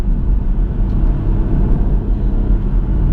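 A BMW M140i pulls hard under full throttle, a loud, low, steady engine drone heard from inside the cabin, continuous and rumbling with no voices over it.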